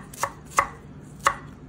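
Parsley being chopped with a knife: three sharp, close cuts spaced unevenly over a faint steady background hum, with no talking.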